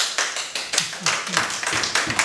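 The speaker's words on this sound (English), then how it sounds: "applause for that" A small group claps in loose, uneven bursts, sharp individual hand strikes close by with a voice murmuring briefly underneath.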